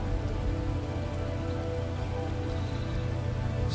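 Steady rain pours in the survival video game Under the Ocean, a dense, even hiss of drops falling continuously and fairly loud, with no voices.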